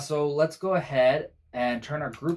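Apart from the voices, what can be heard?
None of the usual background noises is heard.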